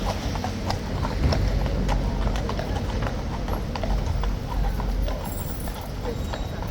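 Police horse hooves clip-clop steadily on pavement, several horses walking in an even, overlapping rhythm, close by and loud with a busy background.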